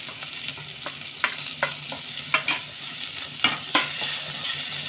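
Turmeric and coriander powder spices frying for shahi paneer, a steady close sizzle broken by several sharp scraping stirs of a spoon in the pan.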